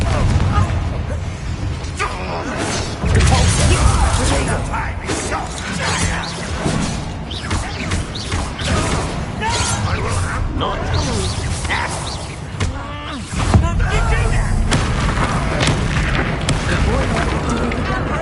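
A Confringo blasting spell in a Harry Potter video game, heavy booming explosions and crashing debris over a continuous loud din of battle effects, with a voice speaking over it.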